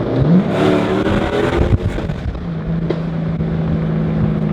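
Several car engines, about 20 cars in a convoy, rumble and rev together on the road, with steady wind buffeting the microphone throughout.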